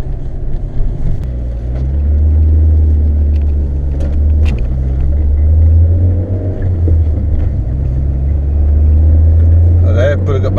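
A Peugeot 405 Mi16 drives along with a steady, loud low engine drone and road rumble inside the cabin, the engine note shifting slightly over the stretch, with a few brief clicks and rattles above it.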